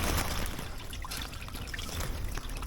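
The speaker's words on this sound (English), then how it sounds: "it's a significant flow of water." Spring water flowing out of laid-up stone in an 1800s mining ghost town, a continuous close trickle and splash of pouring water, steady and fairly quiet with no voices.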